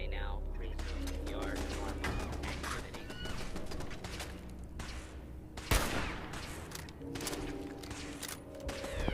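Gunfire in Fallout 4 while a Protectron robot turns hostile, with dense bursts of shots and clattering impacts over steady game ambience, plus a sharp loud crack partway through.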